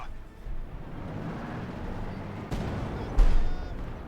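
Mortar fire in Company of Heroes 2, a World War II real-time strategy game, with two distant, dull booming thumps over low battlefield rumble, the second one louder.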